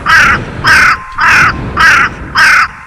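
A crow caws five times in an even rhythm, each call a loud, harsh, drawn-out rasp close by with short pauses between, and no other voices.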